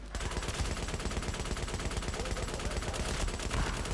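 Rapid automatic gunfire in The Division rattles nonstop, dense overlapping bursts of shots that stay loud and close for the whole stretch.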